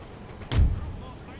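A cannon fires once in the Napoleon Total War battle game, a single sharp boom with a low rumble that fades quickly over a soft background.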